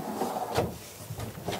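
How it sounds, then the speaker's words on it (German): A kitchen drawer in a Dethleffs Alpa I 7820 motorhome slides open or shut, with one firm knock about midway through a quiet, short stretch. "Und dann hier unsere Schubladen, schöner Besteckkasten, auch groß,"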